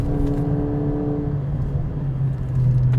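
A 2020 Mercedes CLA45 AMG driven on twisty roads, its engine droning steadily with clear harmonic tones that shift as revs change, loud and close with no talking.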